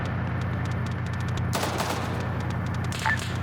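A CSU vehicle with a turret and large gun firing in a Russian military game scenario: distant, faint rapid gunfire popping over a steady low rumble, with a slightly louder burst midway.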